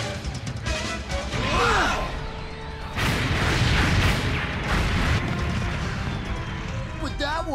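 Cartoon weapons fire in an asteroid belt battle, with loud crashing booms and blasts layered over rumbling, and a voice shouting among them.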